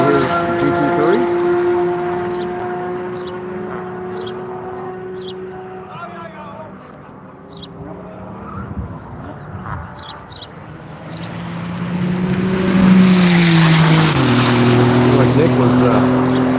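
A Porsche GT3 race car drives on the track at Grattan, its engine drone rising and falling through gear changes and swelling loudly as it passes near, with a commentator talking over it.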